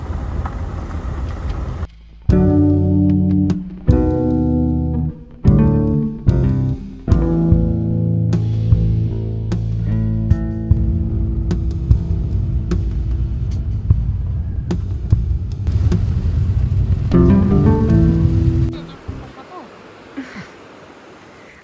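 A vehicle rumbling along a potholed road in Sri Lanka: a loud, close, continuous drone with sudden jolts and level changes, fading out near the end.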